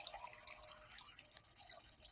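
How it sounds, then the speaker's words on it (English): Bottled water poured into a pot of chicken squash soup, a soft trickling splash with drips, faint and steady for about two seconds with no talking. "we're going to add some more water to it. Some bottled water to it."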